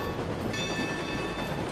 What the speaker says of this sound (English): we have our trusty iron workhorse, the Astragon, our level 7 train